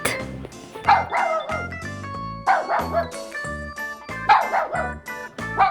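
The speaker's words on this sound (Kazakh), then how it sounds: "Ит." A dog barks repeatedly in short, sharp bursts, roughly four or five barks over soft background music.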